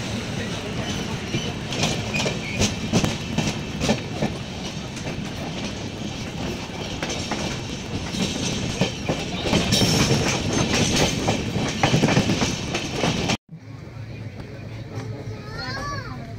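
The Gomti SF Express passenger train rattles along the rails with a loud, rhythmic clickety-clack while children and other passengers chatter nearby, before it cuts to a quieter rumble.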